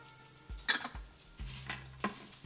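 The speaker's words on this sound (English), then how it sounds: "And we'll give these a stir." Whole spices (cinnamon, clove and green cardamom pods) stirred in a cooking pot for khichdi: a few close, sharp clinks and scrapes of a spoon against the metal, spaced irregularly over a quiet background.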